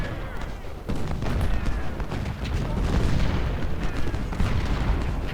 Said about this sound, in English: our heavy guns still need to focus their fire on the artillery